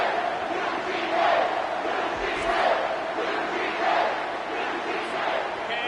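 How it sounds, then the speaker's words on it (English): Home crowd cheering at a college football game against LSU, a dense, roaring stadium swell of many voices rising and falling in rhythmic chant-like waves. "And you just know the home crowd is loving this."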